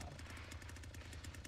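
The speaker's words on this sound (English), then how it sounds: "I hear a chainsaw" A chainsaw in the Texas Chain Saw Massacre video game buzzes faintly in the distance as a steady, rapid pulsing drone.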